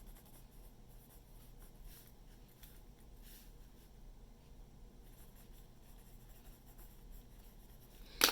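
A pencil writing on paper in a quiet room, giving a faint, steady scratching that ends in a brief louder tap.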